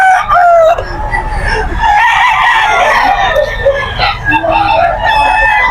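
Many chickens and roosters crow and cluck together in a dense, loud chorus at a predawn poultry market in Bocaue, Bulacan, with a crowd murmuring faintly beneath.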